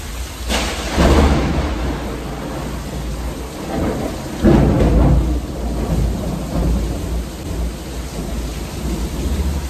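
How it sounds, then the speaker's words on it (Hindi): Heavy rain pours steadily, flooding a courtyard, while deep rumbles of thunder roll in twice, loud and close, with no one speaking. "इतनी बारिश हुई है कि आंगन में पानी भरना स्टार्ट हो गया है"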